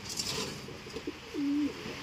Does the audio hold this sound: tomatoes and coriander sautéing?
no